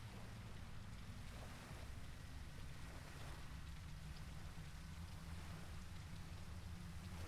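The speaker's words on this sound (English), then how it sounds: "still raining, sort of." Steady rain falls in a video game, a soft continuous hiss of drops on surfaces with a low rumbling bed beneath, faint and unchanging throughout.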